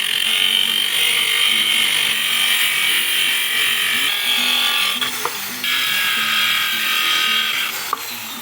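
Small piece of iron rebar being cut, a steady high-pitched grinding whine running throughout with brief dips and a couple of sharp clicks.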